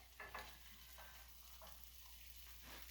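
Bacon fries in a pan on a woodstove with a soft, even sizzle, quiet and close, broken by a few light clicks and scrapes of the pan.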